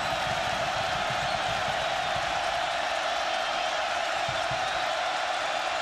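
Continuous cheering from a packed stadium during a 2010 Oregon versus California college football game, a dense, even roar that holds for several seconds with faint whistles and shouts woven through.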